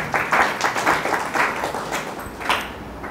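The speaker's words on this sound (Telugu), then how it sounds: "చప్పట్లు కొట్టి పరచండి." A church congregation at Sunday worship claps in quick, rhythmic bursts, moderately loud and close, with the pulses briefly thinning near the end.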